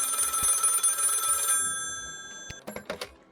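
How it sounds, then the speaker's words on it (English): A telephone bell rings loudly in one sustained burst of bright metallic trilling, then cuts off and leaves a decaying hum, followed by a few soft knocks and clicks nearby. "Phone is ringing."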